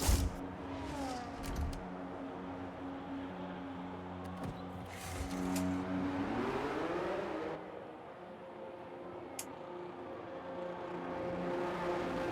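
A race car in a racing video game at Abu Dhabi pulls into the pit lane, its engine note steady then dropping and shifting pitch as it slows, with a constant whir and no talk.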